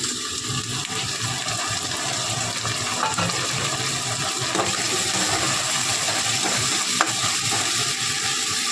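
Ground tomato paste frying in a pan with onion, ginger and garlic paste, a steady, fairly quiet hiss and sizzle running throughout with faint clinks, no talk.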